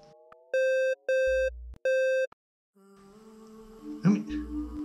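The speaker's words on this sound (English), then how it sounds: "I'm getting a strange signal coming through." A strange electronic signal played through spaceship speakers in a 1960s science-fiction drama: three clean, evenly spaced tonal bursts like a busy signal, followed by a wavering, warbling electronic hum, loud and alone.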